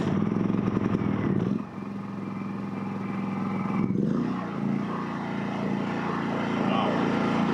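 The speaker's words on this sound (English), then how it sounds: "We should switch it to start. First start," A brand-new WEN 56380i portable generator starting for the first time, a steady low, muffled engine drone that catches, briefly dips, then settles into a continuous running hum close by.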